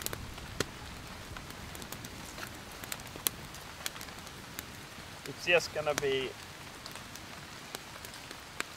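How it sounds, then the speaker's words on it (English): Rain patters on a campsite beside a lake, a steady, dense hiss of drops with occasional sharper hits, while a person speaks briefly partway through. "all of a sudden it started to rain"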